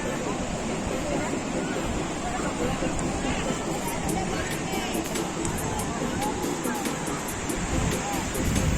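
Rough sea waves roll in steadily at Nagaon Beach near Alibaug, Maharashtra, as a loud continuous roar of surf mixed with wind buffeting the microphone and faint crowd babble.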